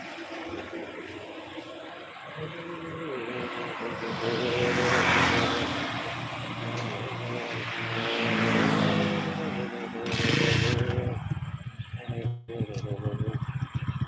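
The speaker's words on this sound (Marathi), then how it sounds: "हे आमचे जयसिंग भाऊ गाडी चालवत आहेत सकाळपासून" A vehicle drives along the road during a wari pilgrimage, its engine swelling and fading as it moves, with faint voices now and then.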